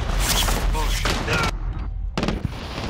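Automatic gunfire in a Modern Warfare battle royale match, bursts of rapid shots in the first half and again near the end, loud and close, mixed with game effects and a player's voice.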